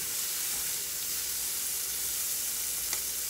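Meal-prep food fries in a pan on the stove, a steady close sizzle and hiss running without a break, with no talking.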